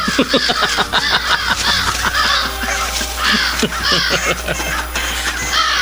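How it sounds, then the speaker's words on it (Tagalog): Many crows caw loudly and repeatedly, a dense, overlapping chorus of harsh calls close by that keeps up without pause. "isa-isang dumadating ang mga uwak na narating ng aking karunungang itim"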